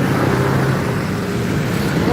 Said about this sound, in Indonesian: Ada bis kuning teman-teman.